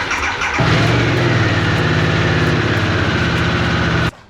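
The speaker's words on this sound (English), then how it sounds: "recycle the ignition off, turn it back on" A Harley-Davidson Sportster S motorcycle engine cranks briefly, then catches and settles into a loud, close, throbbing idle that cuts off abruptly at the end.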